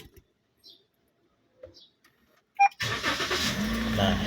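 A car with an anti-theft fuse trick stays silent apart from faint clicks, then the engine cranks with a sharp burst and catches once the fuse is reinstalled. It settles into a loud, steady running hum, close by, with no talking.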